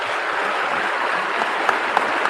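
Audience at a Harlem debate applauding the panelists, a dense, steady wash of clapping that holds at an even level for a couple of seconds.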